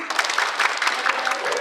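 A burst of crowd applause at an audience event in Bali, dense and steady, many hands clapping together at close range for under two seconds.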